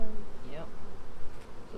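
Honey bees buzzing around an open hive on a winter day of checking food stores and brood, a steady close droning hum with faint bits of voice underneath.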